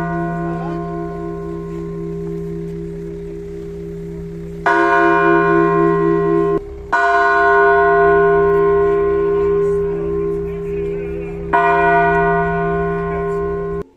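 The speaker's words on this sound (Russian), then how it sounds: "а после приглашают к колоколу мирян. В итоге на полчаса его голос не умолкает" Large church bell rung by lay visitors at a Russian Orthodox church in Kemlya, booming strikes with long ringing hum that sustains between blows, several loud close strokes over a steady resonant drone.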